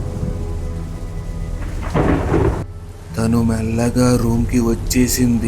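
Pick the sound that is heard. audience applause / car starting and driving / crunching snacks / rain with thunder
rain with thunder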